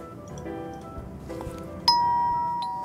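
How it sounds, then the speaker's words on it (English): A doorbell chime in the video game Dirty Split rings out clearly once, a bright two-tone ding with a sustained ringing tail over low ambient background. "Ding dong."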